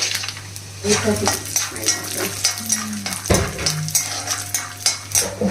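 A cup of peanuts dropped into hot oil with chopped ginger, frying with a steady sizzle, overlaid by clattering pan and utensil knocks and scraping stirs close by.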